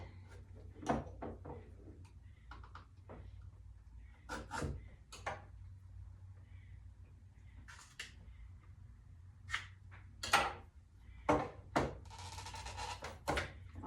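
Raw honeycomb package being opened by hand, a knife nearby: scattered crinkling, tapping and thunking handling noises, with several sharper plastic rustles and clicks near the end, close and moderately loud over a low steady hum.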